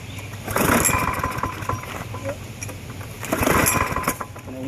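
A Briggs and Stratton lawn mower engine is pulled over twice, each attempt a short chugging burst of turning over that dies away without catching, close by.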